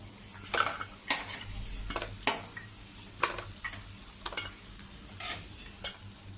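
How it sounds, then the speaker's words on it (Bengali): Fried lentil dumplings (bori) being lifted out of a pan, with scattered metallic scrapes and clinks of a utensil against the pan over a low, steady sizzle of frying oil. "বুড়ি আমার লাল লাল ভাজা হয়ে গেছে আমি তুলে নিচ্ছি"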